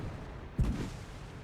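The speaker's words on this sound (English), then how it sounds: "Blind fire a few at the cap circle." A single tank gun shot in World of Tanks, blind-fired at the capture circle: one short, heavy boom with a brief rumbling tail, moderately loud above a low background hum, with no voices.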